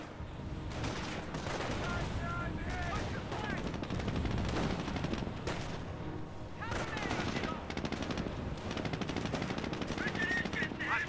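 MG42 machine gun fire in Company of Heroes, rapid bursts mixed with rifle shots and battle noise at moderate distance, steady and continuous, with a voice talking over it.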